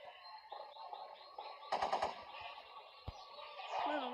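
Bursts of automatic gunfire in the mobile shooter ModernSniper, several sharp volleys crackling over steady game background noise, with a couple of single louder shots.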